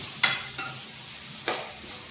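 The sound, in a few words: tomatoes sautéing with fried onions in a pan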